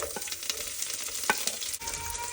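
Ginger and garlic frying in a hot pan, a steady close sizzle broken by a few scraping stirs of a utensil, no voices.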